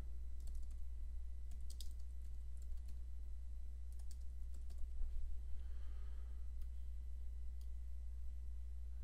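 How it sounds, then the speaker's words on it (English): Computer keyboard typing while entering 3D text in an animation program: a steady run of light, close key clicks in quick irregular bursts, alone with no talking. "and we'll type it up."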